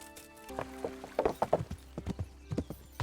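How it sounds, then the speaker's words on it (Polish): Hooves clip-clop in Kingdom Come: Deliverance as a horse walks in an uneven, close rhythm of hoof strikes over a low, steady background hum, with no talking. "Tam gdzieś konia zostawiłem, co nie?"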